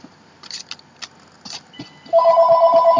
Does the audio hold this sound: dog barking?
no